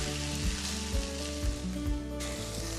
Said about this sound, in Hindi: यहाँ पर चिकन को हम 5 मिनट तक फ्राई करेंगे